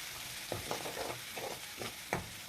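Chili-garlic paste sizzles and fries in hot oil in a kadhai, a steady hiss broken by a few soft stirring scrapes, close and alone.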